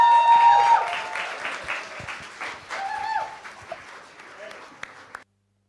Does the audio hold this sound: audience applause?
yes